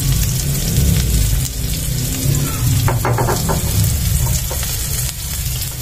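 Chopped onion and garlic sauté in hot oil in a pan, giving a loud, steady close sizzle with a brief clatter of stirring partway through.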